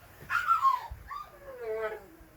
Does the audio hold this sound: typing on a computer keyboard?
no